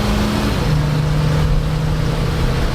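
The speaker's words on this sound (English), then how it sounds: "Will it do a burnout at all? It will. It'll power brake." A 1973 Ford Ranchero's engine drones loud and steady while power braking, its rumbling tone shifting slightly partway through amid heavy rough noise, with no talking.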